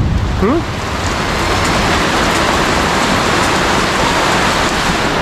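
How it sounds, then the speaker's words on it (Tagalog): Loud, continuous downpour with gusting wind, a steady wash of rain hammering surfaces nearby; a short faint vocal chirp rises briefly at the start. "Lakas ng hangin tsaka ulan"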